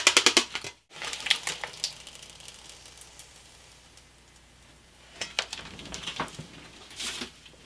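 Protective foil is peeled off an amplifier panel, producing close crackling and crinkling bursts in uneven clusters, with a brief quiet gap early and quieter stretches between busier spells.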